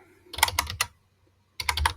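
Keys clatter on a computer keyboard in two short bursts of rapid typing separated by a silent pause, close and crisp with no voices.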